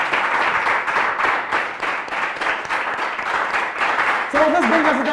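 An audience at a quiz show applauds, a sustained burst of clapping that runs for several seconds, fairly close and even, with a short musical sting near the end.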